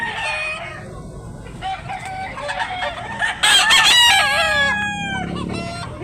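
A gamecock offered for sale at a rooster market in Tabunok, Cebu, gives one loud, close crow amid clucking. Other fowl call faintly in the background.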